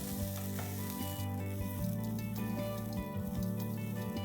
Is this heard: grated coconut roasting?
yes